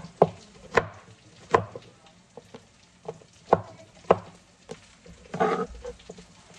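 Food pieces drop into a hot kawali one after another, giving sharp thuds and brief sizzles at irregular intervals, ending in a longer hiss, close by with no talk.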